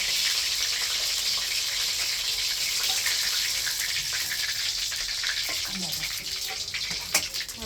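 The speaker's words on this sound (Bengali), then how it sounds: "খুব সুন্দর করে ভেজে নিচ্ছে না? লাল লাল করে।" Chicken pieces frying in a pan for biryani, a steady broadband sizzle throughout with occasional clinks near the end and no talk.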